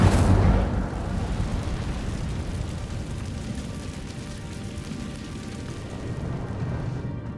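Incendio fire spell cast in the video game Hogwarts Legacy, a sudden low whooshing burst at the start that settles into a continuous roaring, crackling burn, fairly loud and close.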